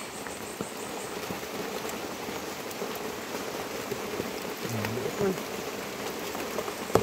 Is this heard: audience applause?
no